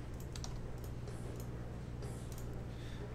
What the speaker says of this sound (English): So let's type all of these in.